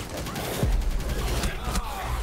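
Rapid gunfire rattles in the Operation Outbreak video game, a close, loud burst of overlapping shots with a few sharper cracks, and a voice seems faintly mixed in.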